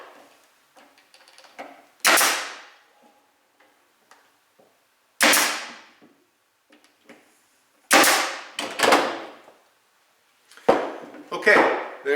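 Nails are driven into the wooden stripes of a small homemade flag, sharp loud strikes that come in spaced clusters of one to three blows, separated by quiet gaps.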